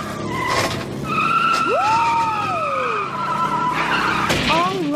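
A cartoon go-kart skids with a rising and falling squeal of tires over engine noise, loud and close, and a voice is heard briefly near the start and end.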